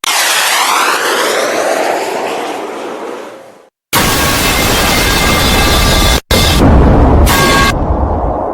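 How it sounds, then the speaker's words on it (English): A fighter jet engine in an animated scene roars loud and steady, fading toward silence, then returns as a sustained broadband blast cut by brief drops. "there's the fighter jet that I'm going to steal"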